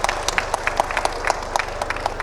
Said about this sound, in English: So we should give a big clap to Mr. Mustafiz again.